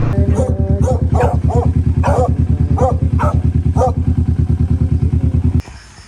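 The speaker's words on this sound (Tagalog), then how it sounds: "Daming doggy, daming dogo." A motorcycle idles loudly and steadily while several dogs bark in quick, repeated yaps over the engine's rhythmic thrum, then the engine cuts off abruptly near the end.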